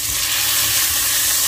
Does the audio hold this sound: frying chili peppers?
yes